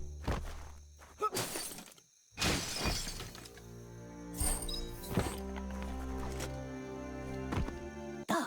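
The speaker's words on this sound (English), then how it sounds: "You shouldn't worry about smashing up the box." Wooden boxes smashing in the video game Biomutant, several sharp shattering crashes spaced over a few seconds against a steady game music bed, with no talk.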